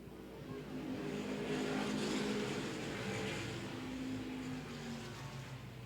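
Street stock race cars roar back up to speed together on the oval at Angola Motorsport Speedway after a restart, a dense, steady wall of engine noise heard from the stands.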